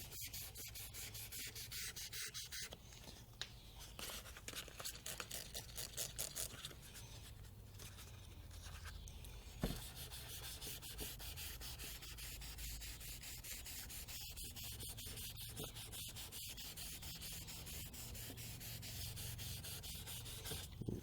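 Soft, rhythmic rubbing of 1000 grit sandpaper wet sanding a Camaro ZL1 bumper, close and quiet, with steady back-and-forth strokes and a few brief scraping bursts.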